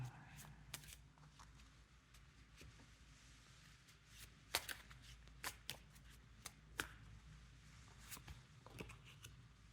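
A Chinese tarot card deck being shuffled by hand: quiet, irregular riffles and sharp card snaps, close up, over a faint background hum.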